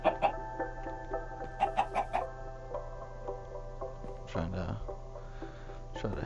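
Chickens in a Minecraft survival game cluck in short bursts, fairly faint, over a quiet backdrop while a person talks throughout.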